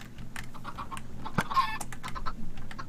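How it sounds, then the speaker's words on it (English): Chickens in the Minecraft Better Than Wolves mod cluck in a farm pen, short repeated clucks over a steady game background, with no one speaking. "Oh, looks like we have a good amount of chickens in there."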